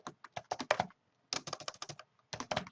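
Rapid bursts of keystrokes on a computer keyboard, three close, crisp runs of typing separated by short pauses, with no talking.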